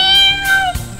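A small kitten gives a single drawn-out, falling meow, close and fairly loud, followed by a soft bump.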